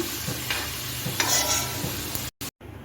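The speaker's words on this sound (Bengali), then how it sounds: "দেখুন কড়াইতে সাদা তেল দিয়ে আমি গরম করে নিয়েছি এখন আলুটি আমি আলুগুলো ভেজে নিব" Potatoes fry in hot white oil in a pan, a steady sizzle broken by several scraping stirs, close and loud, with two brief dropouts near the end and no talking.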